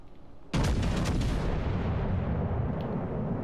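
Naval gunfire from the Courbet battleship in a naval combat video game: one sudden heavy boom after a quiet start, followed by a long rumbling decay that stays loud to the end.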